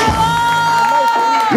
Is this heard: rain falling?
no